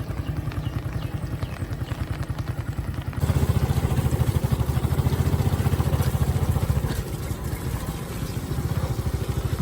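A motorcycle engine chugs in a steady, fast pulsing rhythm close by, growing louder partway through as it revs up before easing slightly, with no talk over it.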